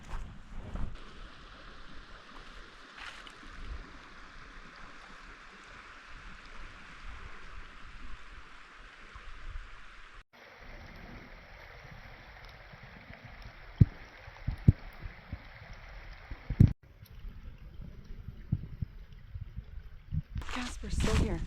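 A forest creek flows steadily in the Ouachita National Forest, a soft continuous wash heard close by, with some wind buffeting the microphone, a few light knocks and a person speaking briefly in places.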